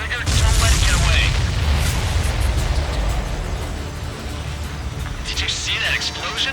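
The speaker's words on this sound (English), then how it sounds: "Did you see that explosion?" A supply ship explodes in the Ace Combat 7 flight combat video game: a loud, heavy boom that rolls into a long, rumbling roar and slowly fades, with brief sharper bursts near the end.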